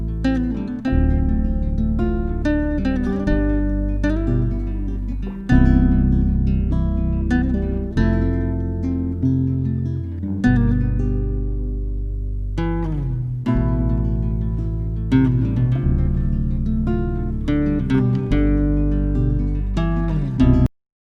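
A song played back while being switched between 24-bit and 8-bit versions, with full-band music running continuously and a few abrupt shifts in tone and noise, no voices.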